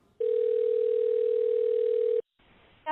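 A steady telephone tone from a Google Duplex assistant phone call sounds loud and unbroken for about two seconds, then stops abruptly before a faint line noise returns.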